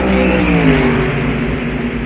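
A Mercedes-AMG GT4 race car at the Portimao circuit in Portugal, its engine roaring loud and close as it accelerates hard, with a steady rising mechanical drone that carries through the whole stretch.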